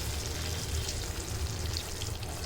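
Milk poured into an eggplant and drumstick curry, half a litre tipped into the simmering pot, giving a steady close sizzle and bubbling that runs unbroken for the whole stretch with no one talking.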